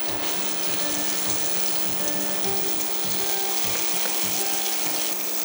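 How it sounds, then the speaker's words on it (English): Spice paste for Indonesian opor ayam sizzles and fries in hot oil in a pan, a steady, dense crackling hiss that continues without pause. "I can tell that the oil is hot. It starts to sizzle a little bit"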